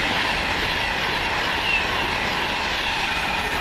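A Pendolino passenger train, service 1H70 bound for Manchester Piccadilly, rushes through Tring station, a loud, steady roar with wheel rumble and faint squeal that holds unbroken from start to finish.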